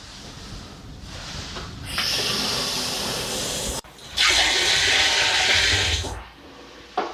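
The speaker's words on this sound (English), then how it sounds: "I'm starting to rinse the napkin." A napkin is rinsed under running water on a homestead: two long, loud bursts of rushing, hissing flow separated by a brief pause, ending in quieter background.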